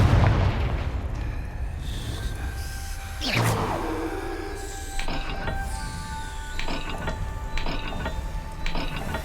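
A Confringo blasting spell in Hogwarts Legacy goes off as a single whooshing burst midway, surrounded by mechanical ratcheting and gear-like clicks and a few sharp metallic chimes.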